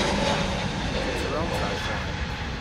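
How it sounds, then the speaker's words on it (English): An Air Transat Airbus A321neo jet at Schiphol gives a steady, fairly close engine roar over the whole short stretch, with someone talking over it. "That's Air Transat's A321neo"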